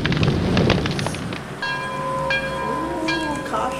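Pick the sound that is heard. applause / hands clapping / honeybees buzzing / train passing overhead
train passing overhead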